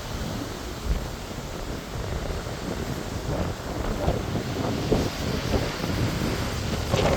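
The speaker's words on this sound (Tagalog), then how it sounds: "Maghapon na napakalakas ng hangin." Steady, strong storm wind buffets the microphone in Bermuda, a continuous broadband roar with gusty swells and no voices.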